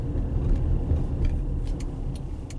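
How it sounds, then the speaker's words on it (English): A Honda car engine under acceleration during a test drive as VTEC engages, a steady, loud, low drone with road rumble that holds throughout. "The VTEC, I gotta really kick it into gear."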